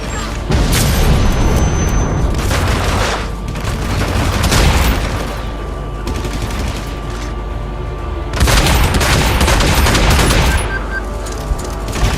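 A grenade blast and gunfire erupt in the video game Hitman Absolution, loud and close. Heavy booming bursts and rattling shots fill the whole span, with two big surges, one early and one late.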